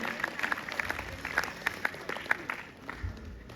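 An audience at a university convocation applauds softly and at a distance as gold medals are presented, with scattered claps and a faint voice underneath.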